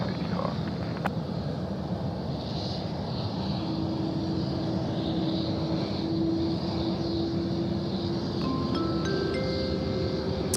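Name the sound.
Qantas 655 airplane taking off, runway 16 right, Sydney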